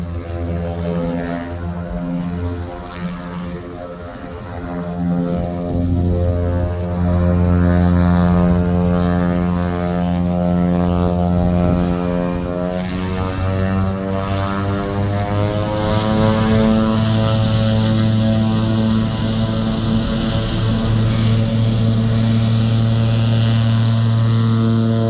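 A propeller airplane flying overhead, a loud sustained engine drone with steady harmonic hum whose pitch shifts as it passes close by, lasting throughout with no talking.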